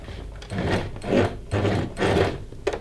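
A sewing machine stitching a dress seam, running in several short pulses with brief pauses, a mechanical whirring and clatter heard close and alone.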